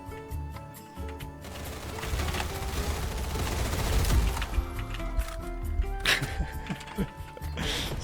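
Death sound of a player character in a first-person shooter video game, surrounded by a steady, busy mix of gunfire and game effects with some sharper impacts near the end.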